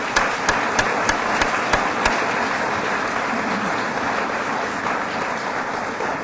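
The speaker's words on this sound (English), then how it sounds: "let's give all of our presenters today a round of applause." Audience applause for the presenters at a cancer-care science talk, a dense steady wash of many hands clapping with a few sharper individual claps standing out near the start, fairly close and filling the room throughout.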